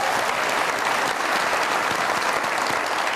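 On the Mazaaq Raat comedy talk show, the studio audience gives a singer a full round of applause, heavy and continuous clapping that stays at the same level for a few seconds.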